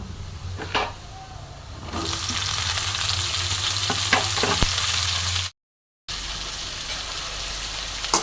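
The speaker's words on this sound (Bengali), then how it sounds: "এবার পেঁয়াজ আর রসুনের সাথে আলু আর পেঁপেটাও ভালো মতন ভেজে নেবো" Chopped potato and papaya frying with onion and garlic in a pan for a small-fish curry, a loud continuous sizzle with occasional clinks of a spatula, briefly cut off near the end before resuming.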